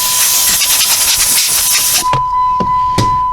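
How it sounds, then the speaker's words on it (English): Compressed air blasts a loud, close hiss into the switches of a neglected Jeep Grand Cherokee's interior, cutting off partway, followed by a few short puffs and clicks under a steady high tone. "If you have compressed air, now is a good time to use it."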